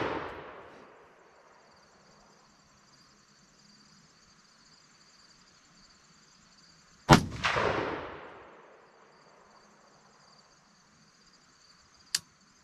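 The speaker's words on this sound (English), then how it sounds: "we're going to ring some steel. Let that one go. Fire off a few more." Rifle fitted with a Sig Sauer Whiskey 3 scope fired at steel targets: three shots spread over several seconds, the middle one loud with a lingering echo, the others sharper and briefer, over a faint insect-like hum.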